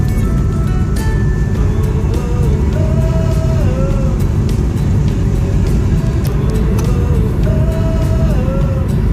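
A Tesla cruises on autopilot along a straight, empty desert highway, giving a steady, loud road and cabin rumble with continuous tire noise and no pauses throughout.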